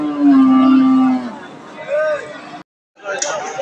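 A cow at a cattle market gives one long, loud, close moo, then a shorter second call. Market chatter and voices follow after a brief gap.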